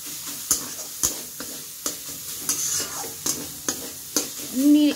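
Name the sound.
stirring and mixing chicken patty filling with mashed potato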